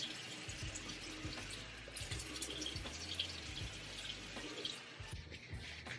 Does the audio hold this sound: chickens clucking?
no